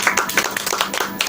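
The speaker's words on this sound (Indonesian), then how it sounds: "Tepuk tangan yuk." An audience claps at the close of a talk show interview with a musician, a brief, dense burst of many hands clapping close and loud, with voices mixed in.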